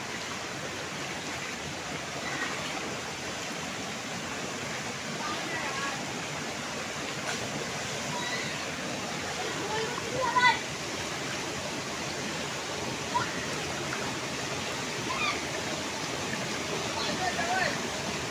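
A rain-fed stream rushes steadily in the monsoon, a dense continuous wash of flowing water close by, with a few brief splashes and faint voices mixed into the roar.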